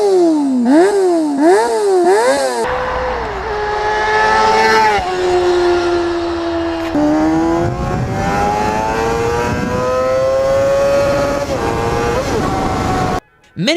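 A Honda CBR 250RR motorcycle with an inline-four engine revs hard, first in rapid rising-and-falling blips, then in long high-pitched screaming pulls that climb and hold, loud and close.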